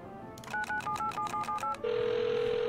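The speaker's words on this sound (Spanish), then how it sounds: "estoy llamando por teléfono en el Airfield" Telephone call tone in the video game Rust at an airfield: a string of short electronic beeps in a steady rhythm, then a long unbroken tone, clear and fairly loud over faint background noise, with no talking.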